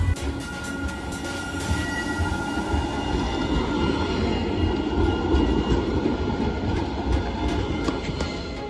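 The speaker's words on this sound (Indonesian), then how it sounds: "Itu keretanya guys, kereta listrik." An electric tram in the Netherlands rumbles steadily past with clattering wheels and a high metallic hiss, loud and continuous with no voices.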